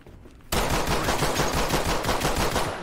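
Loud, rapid gunfire from the tactical shooter Ready Or Not bursts in after a brief quiet moment and continues as a dense, sustained volley of automatic shots, close and dominant throughout.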